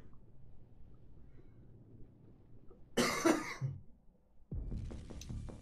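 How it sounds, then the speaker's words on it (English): A single sharp, loud cough bursts out mid-clip against a quiet background hum during a gaming livestream, followed shortly by a muffled throat-clearing sound. "crazy cough that just happened."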